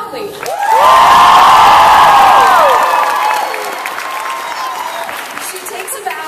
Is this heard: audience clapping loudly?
yes